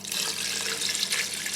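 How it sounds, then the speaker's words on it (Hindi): Water pouring into a blender jar while making Brazilian lemonade with lime, sugar and sweetened condensed milk, a steady splashing trickle for a moment with no voices. "और बीच में जाएगा पानी"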